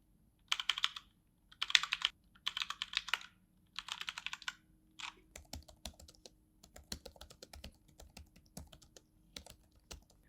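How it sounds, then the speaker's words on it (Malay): Brisk typing on the built-in keyboard of an Infinix Inbook X1 Pro laptop: close, crisp key clicks, first in quick dense bursts, then as scattered individual taps over about ten seconds with no voices. "try test dia punya typing test ASMR style"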